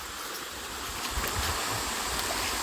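Creek water in a shaded rainforest gully flows and rushes steadily, a close, continuous wash of moving water with no voices.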